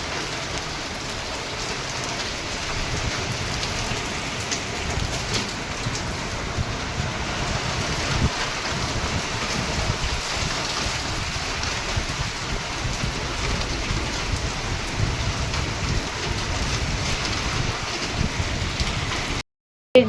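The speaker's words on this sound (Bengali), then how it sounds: "দেখো বৃষ্টি নেমে এসছে" Steady afternoon rain falls in a sudden shower, an even close hiss of drops on surfaces that runs unbroken for about twenty seconds with no voices.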